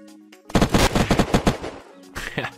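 Close, loud automatic gunfire in the survival game Unturned, a rapid burst of about eight shots lasting over a second, followed by a shorter second burst after a brief pause.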